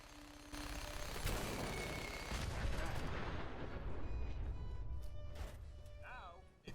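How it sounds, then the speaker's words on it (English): Grenade and mine blasts in the video game Fallout 4: a sustained, rumbling roar of explosions with crackling debris, fairly loud and continuous, ending in a few sharper bursts and a fading whine. "the grenades and mines having a relatively weak explosion sound, but not so weak that it sounds pathetic"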